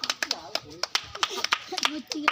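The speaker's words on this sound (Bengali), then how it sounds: "হাততালি দাও।" A few people clap their hands in quick, uneven bursts during a reflex game. The sharp claps are close and mixed with excited talk.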